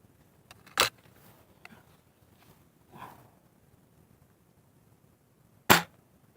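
Two sharp shotgun blasts while bird hunting, spaced several seconds apart in a quiet outdoor setting, with faint rustling and a soft thud between them.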